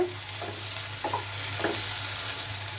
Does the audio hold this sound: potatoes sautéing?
yes